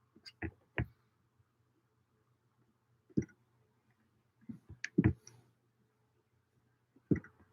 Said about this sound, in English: I just need to quickly click to another window and send this one thing off